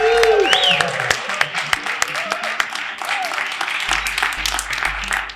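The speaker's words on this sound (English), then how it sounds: "we're just going to clap as loud as possible for you, for me, and for Sami" Audience at a conference clapping together as hard as they can, a dense burst of applause with cheering whoops rising over it and some voices mixed in.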